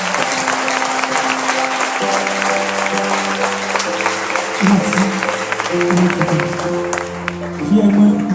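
An audience applauds steadily throughout, a dense wash of clapping that swells near the end, while a voice speaks over it and music tones sound underneath.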